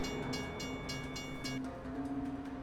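A train passes through a crossing in Oklahoma, heard from a nearby car, with a steady loud rumble of rolling wagons and sustained horn-like tones, partly broken by rhythmic pulses.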